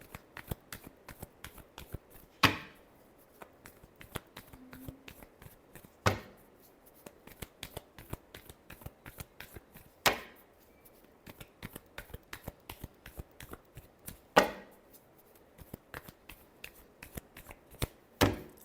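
Tarot cards are shuffled by hand in a steady, crisp stream of close riffling taps, with a few louder card slaps recurring every few seconds.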